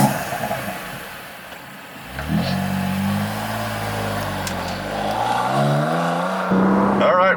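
A BMW M2 CS engine pulls away, its low exhaust note rising in pitch through a couple of stepped revs under light in-cabin noise, heard close and moderately loud.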